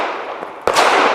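A Smith & Wesson Performance Center SW1911 Pro Series 9mm pistol fires a subsonic 165 grain Hush round from Freedom Munitions: one sharp, loud report whose ringing tail lingers behind it.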